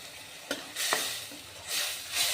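Okra sizzling in a pan with curd, a steady soft hiss that swells and fades over a couple of seconds, with a few faint stirring taps, close and moderately quiet.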